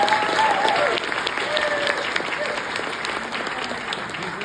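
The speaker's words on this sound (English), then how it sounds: "hear it one more time for our Deputy Principal Chief, Brian Warner." Sustained applause from a large audience, steady clapping throughout with a slight drop in intensity after the first second.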